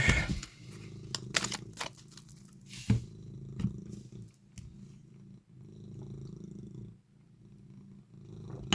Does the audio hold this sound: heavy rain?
no